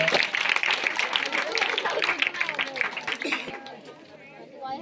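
Audience applause at a school prize-giving, a dense burst of clapping from a crowd close by, fading somewhat toward the end.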